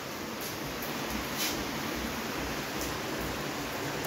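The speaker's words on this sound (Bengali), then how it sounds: "সকাল থেকে পড়ছে বৃষ্টি।" Rain that has been falling since morning, heard outdoors as a soft, steady, even hiss with a few faint brief patters and no voices.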